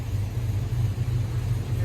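A truck with a cammed LS engine idles at about 650 RPM, giving a deep, loping rumble that pulses unevenly at close range, steady for a couple of seconds.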